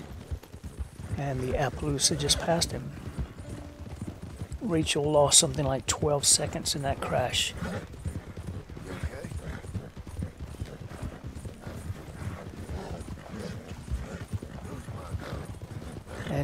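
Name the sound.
horse hooves galloping in race, video game Red Dead Redemption 2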